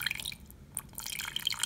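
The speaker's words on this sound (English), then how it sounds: "So I'm just gonna pour boiling water in here." Boiling water is poured into a glass candle jar holding leftover wax and soot, giving a close, bright trickling and dripping splash that thins briefly before picking up again.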